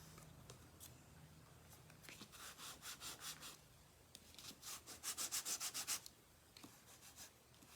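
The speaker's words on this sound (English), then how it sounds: "so I'll give that another burnish." Repeated rhythmic rubbing strokes of burnishing on a wooden hinged box, close and quiet, with bursts of short back-and-forth scrubbing and no talking.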